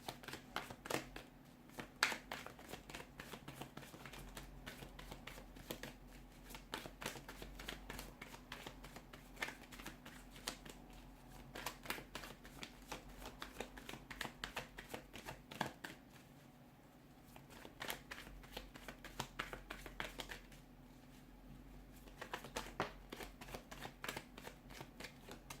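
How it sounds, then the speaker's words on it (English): A deck of tarot cards is shuffled over and over, soft rapid riffling and slapping in repeated bursts with brief pauses, close and quiet. "let's give the cards a shuffle"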